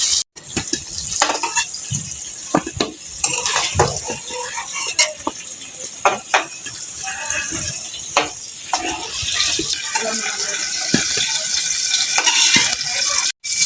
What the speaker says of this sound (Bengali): নুন আর হলুদের সাথে লাউটাকে আমি ভেজে নেব।